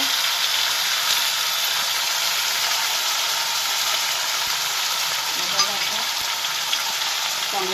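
Onion and ginger paste sizzles and fries steadily in a pan while being stirred, a continuous close crackling hiss with occasional soft scrapes and no talking.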